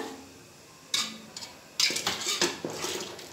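A spoon scrapes and clatters against a metal pot in short bursts, stirring thick rice batter for rice vathal, with quiet pauses between strokes.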